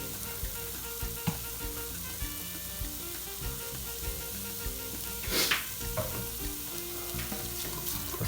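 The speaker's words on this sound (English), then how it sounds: "So we're gonna fry this for a little bit" Beef and chili frying in oil for carne mechada, a constant close crackling sizzle with occasional stirring clicks and a brief louder burst near the middle.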